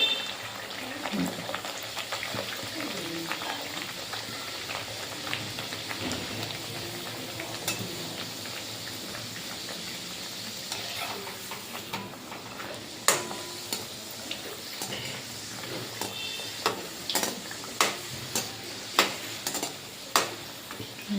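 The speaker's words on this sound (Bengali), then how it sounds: "এবার তেল গরম হয়ে আছে, এই যে লুচি দিয়ে দিচ্ছি।" Luchi frying in hot oil, a steady dense sizzle filling the whole stretch with scattered sharper crackles and occasional clinks, close and fairly loud.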